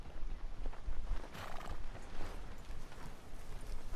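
A horse in Red Dead Redemption 2 walks along, its hooves clip-clopping in a quiet, steady rhythm at moderate distance, with a faint whinny or snort in the middle and no talk.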